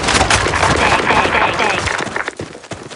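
Rapid gunfire bursts from a shooter video game in a sandstorm setting, dense and loud throughout, with shouted voices calling over the shooting.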